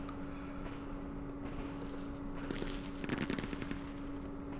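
Mortar fire in the Campaign Series Vietnam war game, Dien Bien Phu scenario, arrives as a quick cluster of sharp, crackling bursts near the middle of the clip, set over a steady low game hum.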